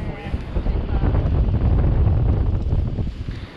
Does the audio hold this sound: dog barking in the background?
no